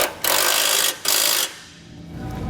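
A ratchet fitted with a 3/4 inch socket snugs down a bolt on a Roadmaster crossbar-style base plate kit for a 2022 Ford Escape, giving two quick bursts of rapid, close mechanical clicking before fading into quiet.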